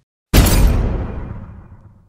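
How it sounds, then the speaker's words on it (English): A single explosion in a Gallifrey war audio drama erupts after a moment of silence, loud and full-bodied, with a rumbling tail that fades over about two seconds. "there was just an explosion here."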